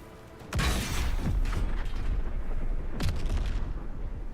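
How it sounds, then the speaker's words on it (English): Explosive blasts from an airstrike during Mind Flayer reinforcements in Baldur's Gate 3, with a heavy boom near the start and another around three seconds in, over a dense, rumbling battle din. "Airstrike."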